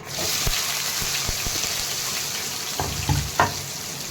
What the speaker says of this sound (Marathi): जिरी मोहरी कांदा हे छान परतून घ्यायचा आहे